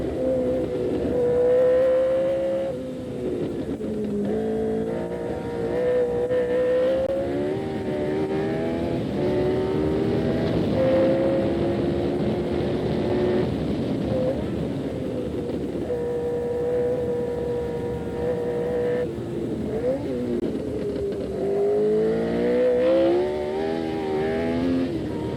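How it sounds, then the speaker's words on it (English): The Tyrrell six-wheeler Formula 1 car at Paul Ricard with Jody Scheckter, heard onboard from the nose: a loud, continuous engine drone with shifting pitch through gear changes and revs, sustained throughout with no talk. "Paul Ricard, the venue for the French Grand Prix, as we ride on the nose of the six-wheeler with Jody Scheckter."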